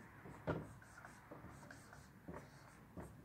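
Soft scratching of a pen or pencil on paper at close range, short strokes with a few louder taps, quiet and without talk, as a child practises writing letters at home.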